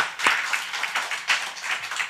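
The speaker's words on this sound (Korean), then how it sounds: "하나님께 영광의 박수로 감사의 표현을 하도록 하겠습니다" Church congregation clapping at a Christmas celebration service, a loose, uneven patter of hands with distinct individual claps rising and falling rather than a thick roar.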